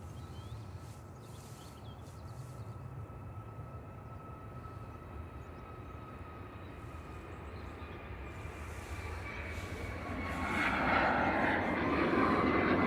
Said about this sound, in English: Another MAX 8200 Ryanair flight 1593 to Cologne, EIIGZ departing there.